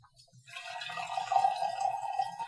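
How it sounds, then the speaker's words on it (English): Bi Luo Chun green tea is poured from a lidded brewing vessel into a pitcher: a close, steady trickling stream lasting about two seconds, rising after a brief start. "I'm going to get into the liquor and the wet leaf, and to do that, of course, I'm going to have to pour."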